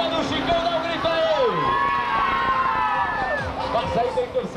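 Spectators at a 2005 Fusca cross race (Volkswagen Beetle dirt racing) in Pimenta Bueno cheer and shout, with crowd noise and voices overlapping continuously under a loud mix.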